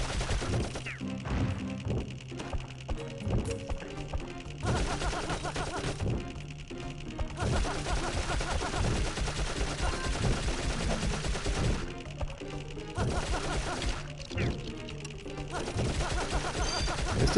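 A pistol fired in the Dark Cloud video game, with repeated sharp shots scattered through a busy stretch of game sound effects and music, moderately quiet overall.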